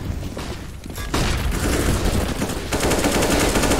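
Dense, loud gunfire fills a Counter-Strike match on the map Cache, with rapid automatic bursts and overlapping shots that continue without a break and grow heavier partway through.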